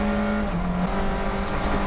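A Fun Cup race car passes on the Oulton Park circuit during a three-hour race, a steady loud engine drone with shifting pitch and a brief tyre squeal near the end.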